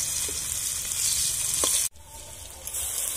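Finely chopped onion fries in a wok, making a bright, steady sizzle with a couple of soft stirring knocks. A brief dip near the middle is followed by a slightly quieter hiss.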